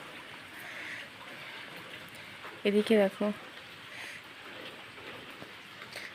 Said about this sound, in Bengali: বাইরে দেখো খুব বৃষ্টি হচ্ছে।